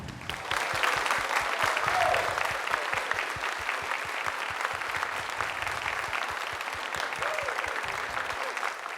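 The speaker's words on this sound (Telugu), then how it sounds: "పితామహ పత్రిజీ గారికి, మరి స్వర్ణమాల అమ్మకు గట్టిగా క్లాప్స్ కొట్టుకుందామండి" A gathering at a meditation event applauds Patriji and Swarnamala with sustained, steady clapping from a fairly large crowd, continuing at an even level for the whole stretch.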